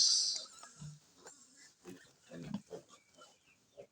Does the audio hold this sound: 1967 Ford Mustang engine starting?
no